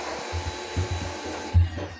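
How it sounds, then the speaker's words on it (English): A pressure washer runs in the background as a steady droning hiss with low pulsing rumbles, heard indoors near a mouldy washing machine door seal, with no talk over it. "That's a pressure washer you can hear in the background"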